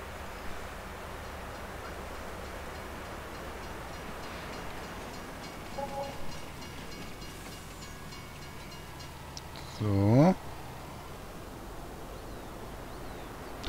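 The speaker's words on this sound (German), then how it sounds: "Oh, der Zug kommt." A train passing in the farming game Landwirtschafts-Simulator 19, a steady rumbling rail wash under constant engine drone, with a brief rising horn-like tone near the end; no talking.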